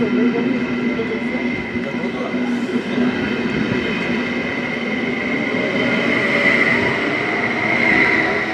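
A passenger train rumbles steadily through a station in Romania at close range, a continuous loud roar of wheels and carriages with a faint high squeal running throughout.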